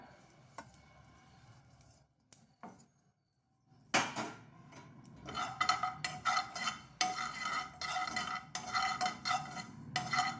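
After a quiet start, a spoon scrapes and stirs dry cumin seeds roasting in a pan with rapid rattling, up close and without any talking.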